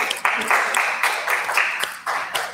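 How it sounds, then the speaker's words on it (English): Audience members clap their hands at an inspirational talk, irregular bursts of clapping swelling and fading several times with brief gaps between them. "Clap your hands"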